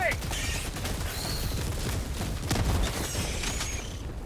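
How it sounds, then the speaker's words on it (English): A grenade in Helldivers 2 going off amid battle noise, with a muffled boom and scattered gunfire crackling through, fairly distant and at moderate volume. "Throwing grenade."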